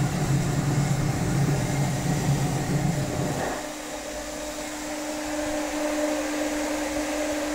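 A waste-oil stove roars steadily with its 12-volt air blower fan, a broad loud rushing hum that drops to a lower, quieter level partway through as the fan speed changes, with a persistent tonal whine underneath.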